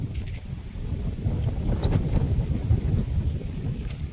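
Strong wind ahead of a Kalbaishakhi storm roars as a steady low rumble that buffets and gusts throughout, with no voices.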